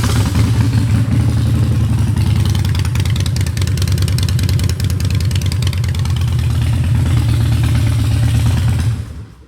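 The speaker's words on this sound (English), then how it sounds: "They're Vance & Hines drag pipes, so yep, you can hear them." A 2011 Harley-Davidson Wide Glide fitted with Vance & Hines drag pipes rumbles loud and close, its deep engine note rising and falling through revs before cutting off abruptly near the end.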